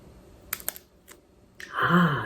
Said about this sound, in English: I want to see if you can hear the crunch. I'll break this one.